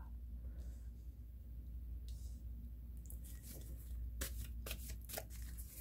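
Tarot cards are shuffled and laid out on a table, soft papery slides turning into several sharp close riffles and flicks toward the end, with no talk.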